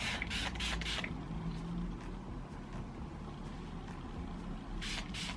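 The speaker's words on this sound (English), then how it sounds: "I'm just gonna spray some Keratin Smooth Tresemme heat protectant spray all over it." Several short bursts of Tresemme Keratin Smooth heat protectant aerosol spray hiss on hair at the start, then a low steady rumble, with another pair of spray bursts near the end.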